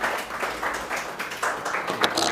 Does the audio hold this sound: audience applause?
yes